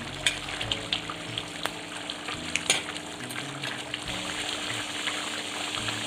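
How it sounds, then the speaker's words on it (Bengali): Bengali-style country chicken curry with potatoes bubbling in a pot after coming out of the pressure cooker, a steady close watery simmer with soft gurgles and occasional light pops. "আমি প্রেশার থেকে বার করে আরেকবার একটু ফুটিয়ে নিচ্ছি।"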